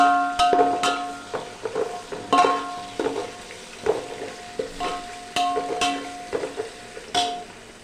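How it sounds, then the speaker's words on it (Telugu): Tomato, coriander, mint and curry leaves fry for khichdi in a pan, giving a steady close sizzle broken by repeated stirring scrapes and clinks at an uneven rhythm. "టమాటా వేస్తా, కొత్తిమీర, పుదీనా, కరివేపాకు, పుదీనా వేస్తా."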